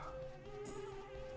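Steady insect-like buzzing from bees around a beehive in the Banjo-Kazooie video game, a continuous droning hum with a sustained tonal whine, unbroken and fairly close for the whole stretch.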